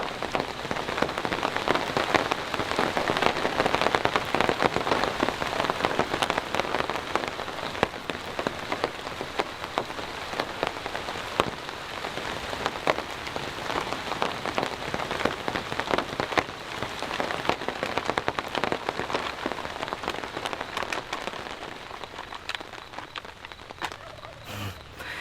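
Steady rain patters on a camp shelter in the woods, a constant dense hiss of drops at even strength that eases slightly toward the end, with no talking.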